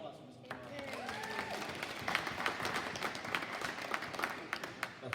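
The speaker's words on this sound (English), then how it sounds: "Round of applause for Mr. Moore." A county board of education meeting audience breaks into applause that swells after a quiet start. Clapping grows dense and fairly loud, with brief voices and whistle-like tones mixed in early.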